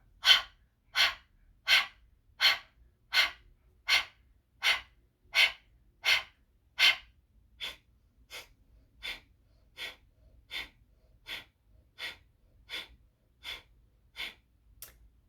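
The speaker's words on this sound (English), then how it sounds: "First set of 20, and we begin with our exhale" Kapalbhati breath of fire: about twenty sharp, forceful exhales in a regular rhythm, close and loud at first, then noticeably softer for the second half.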